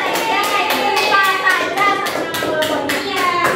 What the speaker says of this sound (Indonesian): Beri tepuk tangan dulu untuk kelompok kesatria